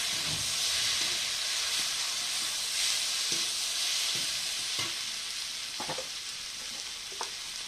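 Marinated chicken with chilli paste fries in a pan with a constant hissing sizzle, close and steady, while occasional spatula scrapes and knocks from stirring punctuate it.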